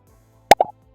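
Built-in pop sound effect in the Scratch coding program: a single short, clean plop followed at once by a softer second blip, alone against silence.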